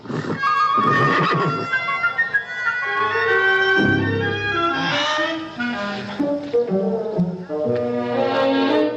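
A horse whinnies loudly and at length, its shrill, wavering calls repeating over several seconds, close by with no talking.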